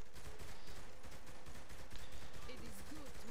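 Gunfire in the video game Saints Row the Third, rapid overlapping shots crackling as a dense burst throughout, mixed under game noise and faint voices.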